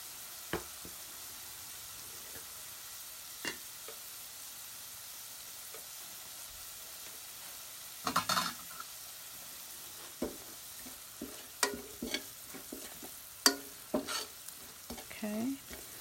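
Onions softening in a pan for spicy bean and cheese burritos, a quiet steady sizzle broken by scattered scraping stirs that grow busier toward the end, with no talking.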